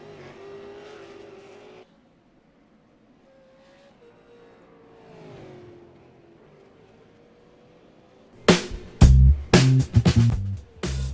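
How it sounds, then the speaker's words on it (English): V8 Supercar race car doing burnouts on its victory lap at a race circuit; after a quiet stretch of faint engine drone, loud bursts of tyre squeal and revving engine roar arrive close up in the final seconds. "Marlon burning them down in his victory lap"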